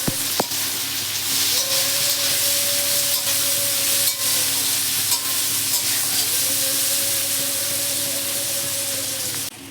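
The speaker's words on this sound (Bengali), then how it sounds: "আর পাশে করে আলু ভাজা হচ্ছে।" Potatoes frying in oil in a pan, giving a steady close sizzle and hiss that runs throughout with no talk, under a faint tonal whine that rises and fades twice.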